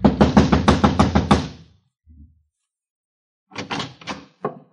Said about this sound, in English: I walked over and started knocking again.